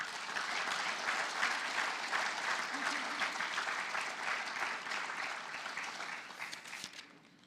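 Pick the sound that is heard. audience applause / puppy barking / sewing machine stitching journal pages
audience applause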